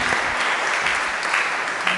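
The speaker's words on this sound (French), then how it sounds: "On peut applaudir les jeunes, les parents qui ont vécu cette année aussi." A church congregation claps at Mass for the young people and their families, a dense, continuous patter of applause from many hands filling a reverberant space.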